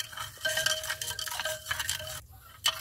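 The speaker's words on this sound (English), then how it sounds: "we continue stirring until we dissolve all iron sulfate" A gold recovery solution with iron sulfate is stirred in a container, giving continuous close scraping and swishing with light clinks and a faint ringing tone.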